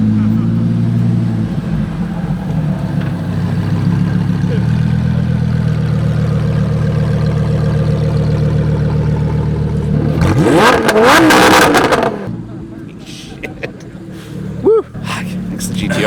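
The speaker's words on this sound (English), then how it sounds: "some of these guys are running like massive pops and bangs maps on their cars" Supercar engines rev hard at a dyno day among GTRs, Lamborghinis and a Ferrari, some running pops-and-bangs maps. A loud sustained engine drone builds into a roaring rev burst, then drops back with a sharp pop near the end.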